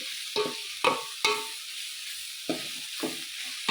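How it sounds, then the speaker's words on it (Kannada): A spoon stirs a pan of fried corn usuli, sweetcorn tempered in a seasoning, with five or six distinct scraping, clattering strokes over a steady background hiss and no voices. "ಈಗ ಚೆನ್ನಾಗಿ ಮಿಕ್ಸ್ ಮಾಡ್ಕೊಳ್ಳೋಣ"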